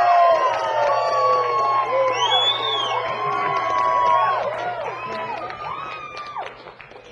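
An audience that has tasted whitefish samples cheers, whoops and claps to vote for a chef in a fishing-chefs cooking battle, loud and close, with excited shouts rising over the sustained roar.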